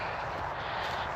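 A steady broadband roar of distant traffic on the M18 motorway, heard from a country lane, a continuous wash of noise with no distinct vehicles standing out.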